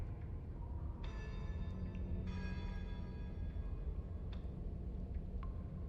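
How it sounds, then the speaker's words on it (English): An echoing church bell rings in the video game Slay the Princess, with a few clear resonant strikes that hang and fade, set faintly behind a low ambient hum. "Am I hearing like almost an echoing church bell behind me?"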